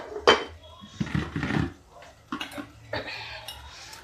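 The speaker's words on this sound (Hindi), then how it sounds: "इस दाल में थोड़ा सा हम डालेंगे घी।" Ghee added to boiling dal in a home kitchen pot: a sharp metallic clink, then sizzling and bubbling with spoon scrapes against the pot, close by, while someone talks.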